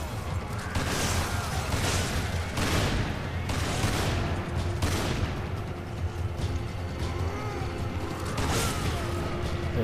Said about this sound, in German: ich schieße den jetzt auch mal ein